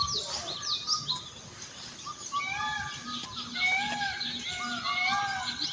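A greater coucal gives a series of low, hollow, evenly spaced hoots in a dawn chorus, under brighter chirps and warbles from other birds.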